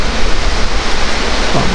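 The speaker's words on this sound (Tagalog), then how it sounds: "Yan, lumalakas yung ulan." Heavy rain pours in a dense, steady roar with low thunder rumbling underneath. The sound stays loud and continuous throughout, and no voices are heard.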